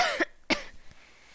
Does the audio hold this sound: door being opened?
no